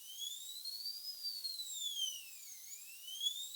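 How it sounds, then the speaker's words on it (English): A KAER 1447 biometric safe sounds its alarm, a thin, high electronic tone sweeping slowly up and down in a steady siren-like glide, fairly faint and heard alone. "So that's the alarm."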